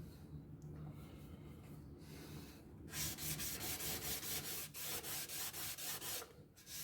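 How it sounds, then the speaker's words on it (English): A model ship hull of HMS Queen Elizabeth being re-sanded by hand, with a steady series of rhythmic rubbing strokes, close and fairly loud, starting after a quieter stretch and continuing alone without talk. "pretty much the same way we were sanding it, we're just going to re-sand it again"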